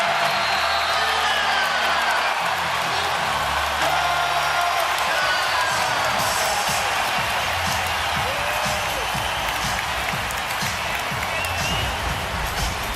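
An arena crowd at an NBA Finals game between the Cavaliers and the Warriors roars steadily, a broad wash of cheering and applause with a commentator's voice running over it and faint squeaks and bounces from the court.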